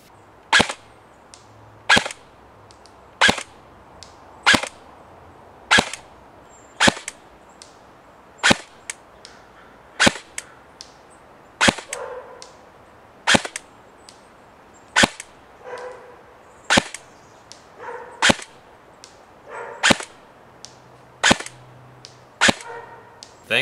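Shots from an upgraded SR25 airsoft rifle: about twenty sharp, crisp cracks fired at a steady, unhurried pace, each standing alone and close against a quiet background.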